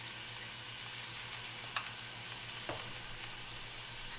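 A smashed burger patty sizzles in a cast iron pan with a soft, steady hiss under a low constant hum, a couple of faint clicks breaking the even frying noise.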